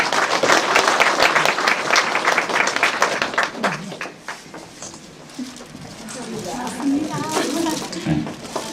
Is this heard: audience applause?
yes